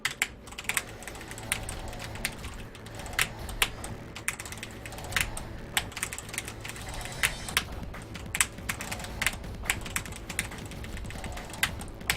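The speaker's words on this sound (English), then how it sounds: "Yeah, I'm using keyboard, Steven." Computer keyboard keys clatter steadily and close during a Wings of Vi platformer run, with sharp individual clicks in quick bursts and no talking.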